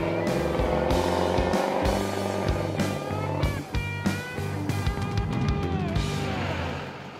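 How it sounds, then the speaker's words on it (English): A Chevy Silverado diesel pickup launches down a drag strip, a loud close engine surge climbing through gear changes with some tire noise. "see if I can get it to stick a little bit better just by varying the technique of how I launch out of the hole"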